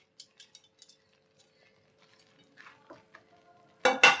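Fried bottle gourd stirred into a pan: scattered light clinks and scrapes of a utensil against the pan, sparse and quiet at first, ending in two louder bursts of scraping and sizzling.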